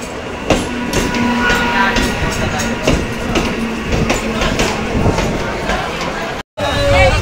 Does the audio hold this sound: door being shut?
no